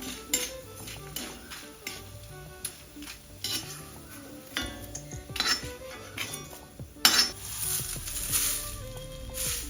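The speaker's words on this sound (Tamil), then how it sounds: "காயம் அப்படியே எண்ணெயில் போட்டோம்னா பொறிஞ்சு வரும்" Asafoetida fries in hot oil for idli podi, crackling and sizzling beneath frequent clinks and scrapes of a metal spoon against the pan, with sharp clatters throughout.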